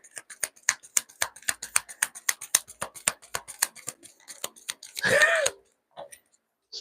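Tarot cards are shuffled and laid face up on a table during a reading: a quick run of crisp, close clicks and slaps, then a short, louder rustling burst, and a couple of faint taps at the end.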